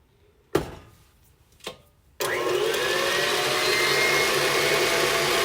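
Electric hand mixer creaming butter in a bowl: two short knocks, then a steady close whirring motor that runs continuously to the end.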